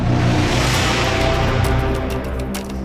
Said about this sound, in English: these are like the sounds in trailers, those big hits or those big ident sounds